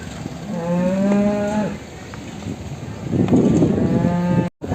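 A buffalo lets out two long, loud moos, one early and one later, close by, with low background noise between them, at the Erragadda buffalo market.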